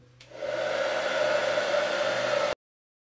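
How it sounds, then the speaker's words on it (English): A hair dryer blows on freshly applied Dixie Belle paint with a loud, steady close whoosh that starts within the first half second and cuts off abruptly after about two seconds. "I'm gonna dry it."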